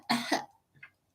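A single close cough from a woman who is sick, a sharp double-pulsed burst followed by a faint breathy trailing sound, then quiet.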